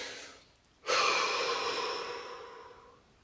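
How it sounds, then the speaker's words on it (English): One deep breath drawn in, then a long, slow exhalation that fades gradually over a few seconds, close and breathy in an otherwise quiet room during a guided relaxation session. "Step 2 is the deep breath and exhalation"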